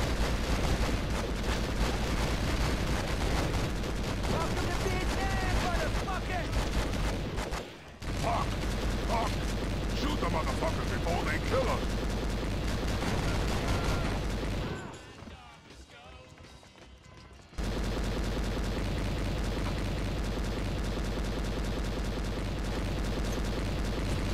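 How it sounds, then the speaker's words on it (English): Gunfire in the Vietnam war video game Conflict: Vietnam on PlayStation 2, a dense, continuous battle din with rapid shots and explosions, briefly cut off twice, with voices shouting over the fighting. "Hey, Jerry, shoot, man, shoot"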